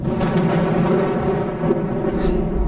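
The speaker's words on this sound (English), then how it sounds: "There's the storm the Wonderbubble Weather Watcher was telling us about." Thunder from a thunderstorm in a children's TV show rumbles low and continuous, a dense rolling sound that swells and dips across a few seconds.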